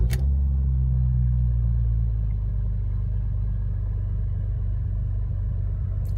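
A 1993 BMW M5 fitted with a stainless tri-flow exhaust runs at a steady, lumpy idle, a deep continuous rumble up close, with a brief rise just after starting before it settles.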